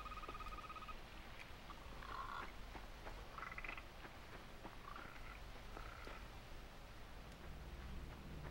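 Frog croaks come in short repeated calls from a dark video game world, set over a dense, constant rustling hiss of ambient noise.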